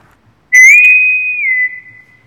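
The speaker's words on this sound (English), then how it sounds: "That's the bosun whistle." A single bosun's pipe call sounds loud and close, a sustained shrill whistle with a brief warble at the start and a slight pitch drop near the end, held for just over a second in otherwise quiet surroundings.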